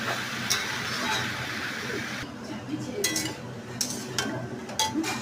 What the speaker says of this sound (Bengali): এটাকেই নাড়াচাড়া করতে করতে এর থেকেই জল বেরোবে